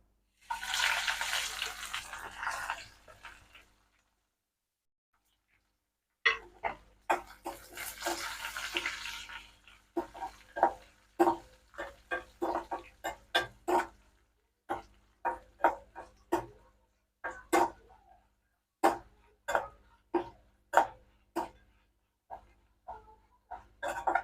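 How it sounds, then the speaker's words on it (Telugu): Coriander seeds frying in hot oil for a peanut chutney: a few seconds of steady sizzling hiss, a pause, then more sizzle breaking into a long run of sharp, close crackles and pops, with no talking. "ధనియాలు కూడా వేసేసుకొని ఇదే నూనెలోని ఫ్రై చేసేసుకుంటున్నాను."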